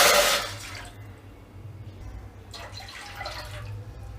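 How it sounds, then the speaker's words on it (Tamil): Two cups of water poured into a pan for turmeric tea, with a short, bright splash at the start that eases into a softer trickle and a few later splashes. "அதில் 2 கப் தண்ணி ஊற்றிக்கோங்க."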